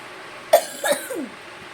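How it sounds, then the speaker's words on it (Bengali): Two sharp coughs follow close together, with a weaker rasping trailing off afterward, close to the microphone. "একদম খেতে পাচ্ছে না, এত কাশি হচ্ছে।"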